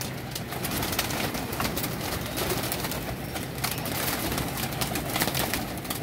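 Pigeons coo repeatedly from a loft of newly caught birds, with soft, overlapping calls against a busy, steady background.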